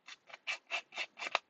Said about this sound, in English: Get the old scissors out.